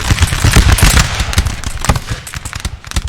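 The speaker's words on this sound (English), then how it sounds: "They're just happy to just stand there and just, like, take the gunfire from the HRE." Rapid crackling musket volleys from massed line infantry in the Napoleon: Total War battle of Castiglione (1796), dense overlapping gunfire bursts, loud and close, thinning slightly toward the end.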